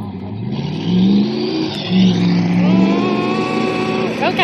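A truck engine revs loudly, its pitch climbing and dropping through several accelerations. Voices talk over the engine, and near the end a voice briefly rises in a shout.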